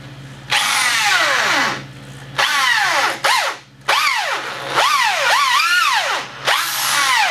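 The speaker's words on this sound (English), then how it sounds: "And then we'll drill this out." A power drill bores out screws in a wooden bench, close and loud, in several bursts of whining motor that rises and falls in pitch, with short pauses between runs.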